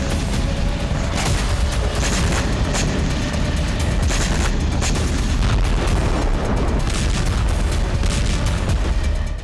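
Ukrainian artillery fire in Russia's Kursk region: dense, loud rolling booms and rapid overlapping blasts continue without pause for several seconds.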